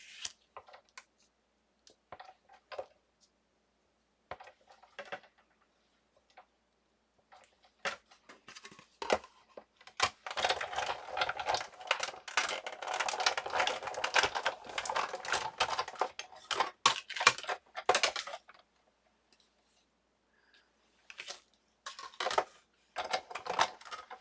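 A die-cutting machine presses regular 65-pound cardstock through a detailed die, giving bursts of sharp clicking and crunching that come in sparse taps at first, then build into a dense, steady rattle before thinning out again.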